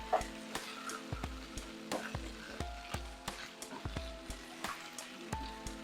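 Vegetables frying in a pan with garlic and onion, a soft sizzle under a series of rhythmic scraping stirs from a utensil, close and moderately quiet.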